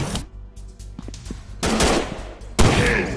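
Rapid bursts of WW2-era gunfire ring out in the mobile shooter World War Survival Heroes, loud and close, with clustered shots separated by short quieter gaps and a heavy final blast.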